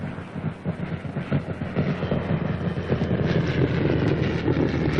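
A Spitfire fighter plane flies past at an air show, its steady engine roar building and growing louder across the stretch with no talking.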